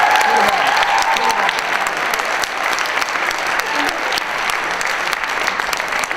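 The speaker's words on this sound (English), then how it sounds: "How about a giant round of applause?" Audience at a high school talent show giving a loud, sustained round of applause, dense clapping that holds steady, with a brief voice near the start.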